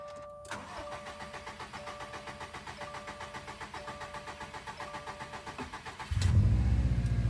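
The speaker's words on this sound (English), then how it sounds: "just released my foot and the car started right up" A Subaru WRX STI engine just after an oil change cranks steadily with a rhythmic starter whir for several seconds, then fires and catches with a loud, close low rumble.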